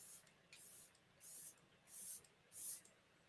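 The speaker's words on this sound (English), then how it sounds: "I love the spray on it. I wish it was like a continuous spray," Five short, sharp hisses of a spray bottle misting, evenly spaced with brief pauses between each burst, close by in a quiet room.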